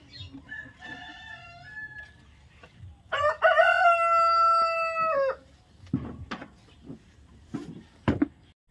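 Farm chickens with hens laying eggs in nests: a loud rooster crow stretches for about two seconds mid-clip, with softer clucks and calls before it and short sharp squawks after, close by and without speech.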